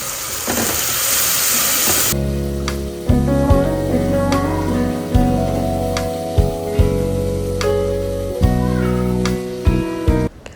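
Garlic ginger paste frying in a pan in a home kitchen while cooking an Indian dinner, a steady bright sizzle throughout, with a faint tonal whine and a few clatters over it, no talk.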